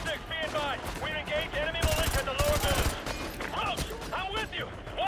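Rapid gunfire crackles through a crossfire in Call of Duty: Modern Warfare 2 Remastered, dense automatic bursts peaking midway amid shouted voices and game chatter.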